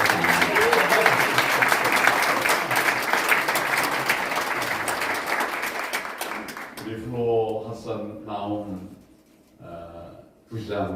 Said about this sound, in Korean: 죄송합니다만 우리 아내를 위해서 박수를 부탁드립니다.